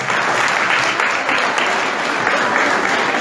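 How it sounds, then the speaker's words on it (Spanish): An audience at a beauty queen coronation pageant claps steadily for the jury, a dense, loud wash of applause that holds level throughout. "aplaudimos al gran jurado que hemos tenido en esta labor"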